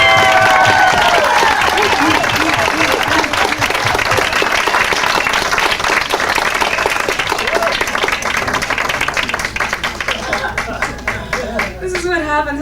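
Audience applause fills a live event, loud and steady as a crowd claps throughout, with some cheering mixed in and rhythmic clapping thinning toward the end.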